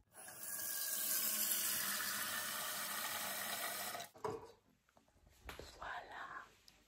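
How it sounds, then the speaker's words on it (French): Water from a kitchen tap runs into a kettle or cup for tea early in the morning, a loud steady gush for about four seconds, then stops, leaving quiet handling sounds and faint whispery noise. "Je fais couler l'eau."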